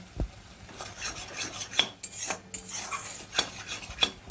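A utensil stirs spices in oil in a pan with repeated scraping strokes in an uneven rhythm. The scrapes sit over a soft, low sizzle, close and fairly quiet.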